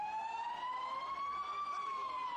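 Wailing sirens of fire engines and ambulances at the scene of a large explosion in Ankara, one clear rising and falling tone sounding steadily at a moderate distance.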